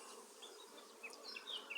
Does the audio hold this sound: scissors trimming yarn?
no